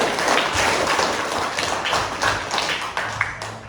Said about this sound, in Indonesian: Beri tepuk tangan semua teman-teman.